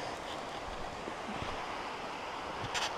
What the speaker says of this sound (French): Et me voilà dans la Warche, avec la plus grande cascade de Belgique devant moi.